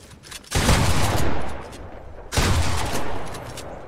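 Shotgun blasts in a fast-paced shooter video game, two loud booming shots a couple of seconds apart, each trailing off in a long rumbling tail, with no talk over them.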